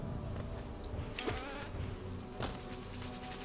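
Buzzing of a bee-like enemy in the video game Hollow Knight, a steady insect drone mixed into game sound with a couple of brief louder swells, heard without speech.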